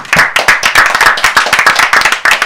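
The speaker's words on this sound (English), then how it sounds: "Give them a real round of applause, please." A small indoor audience claps steadily for the winning women's team at a game-show style competition, with close, dense, irregular hand claps that continue throughout.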